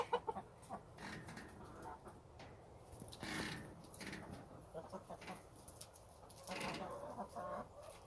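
Chickens cluck and chatter softly in a garden coop while being fed scraps, with a busy, faint mix of bird calls and rustling and no clear talk.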